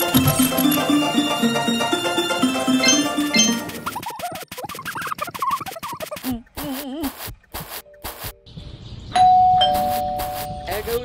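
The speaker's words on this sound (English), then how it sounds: "There goes that stupid bell again." Doorbell chiming in the video game Scary Teacher, a bright electronic ding that rings out over game music and cartoonish sound effects, loud and close.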